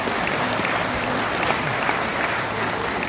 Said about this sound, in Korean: 우리 부모님께 박수 한번 받아주시죠